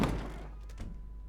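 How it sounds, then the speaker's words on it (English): A door opens in the video game The Stanley Parable Ultra Deluxe with a single dull thunk and a brief soft thud, close and quiet over a low hum, with no voices. "Here's the door."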